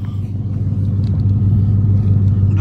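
A pickup truck engine with dual exhaust idles steadily with a deep, continuous low rumble, close by and fairly loud, with no talking over it.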